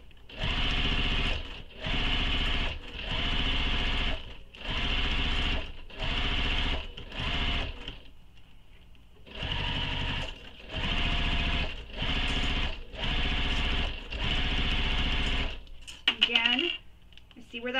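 A sewing machine stitches piping onto a nylon bag in repeated loud bursts of rapid whirring, each a second or so long, separated by brief pauses, with a short quiet gap midway.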